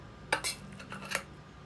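Rice with a meaty dried-fruit filling being spooned into a hollowed pumpkin, heard as a few faint, close metallic scrapes and clinks of a spoon, spaced irregularly over a quiet background.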